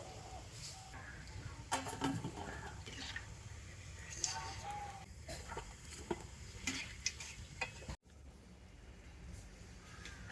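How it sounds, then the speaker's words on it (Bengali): Palm fruit pitha cakes frying in hot oil, giving a steady soft sizzle with scattered light clicks and stirring taps close by, ending in a brief cut before quieter frying continues. "এই একইভাবে করে বাকি পিঠেগুলো ভেজে নেব"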